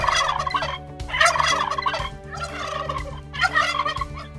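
Recorded turkey chicks' calls played from a recorder hidden inside a stuffed polecat, a busy chattering of bird calls in rhythmic bursts over a steady electronic hum, fairly loud and close.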